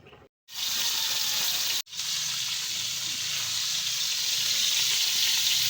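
Fish frying in a kitchen pan, a loud steady sizzle that cuts off briefly twice near the start and then keeps hissing evenly without a break.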